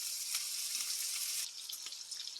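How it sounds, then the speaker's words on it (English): Sausage added to bacon frying in a pan, a bright, steady sizzling hiss with small pops, close and alone with no talk, easing slightly partway through. "Now you're going to add your sausage in here to your bacon, and you cook it until the sausage gets brown."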